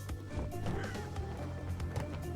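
Birds cawing in a row in the Crash Bandicoot video game, repeated harsh calls over a steady, busy game music and effects bed.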